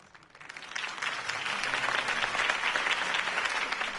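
Crowd applause in the Batman Telltale Series video game, a dense wash of clapping that swells in over the first second and then holds steady and loud, with no talk over it.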